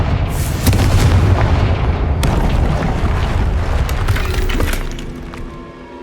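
A Confringo spell in Hogwarts Legacy blasts through a magical barrier, giving a loud, booming explosion with a shattering crash that rumbles for several seconds before fading.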